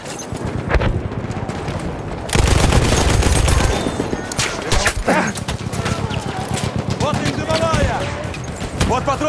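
Lewis machine gun firing in a World War I shooter battle on the Volga river, loud rapid bursts of automatic fire up close alongside distant gunfire, with shouted voices and battle noise throughout.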